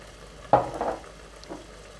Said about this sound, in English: The onions has been sauteing for a while now, so I'll be adding the blend peppers